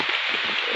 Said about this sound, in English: to be a heavy downpour of rain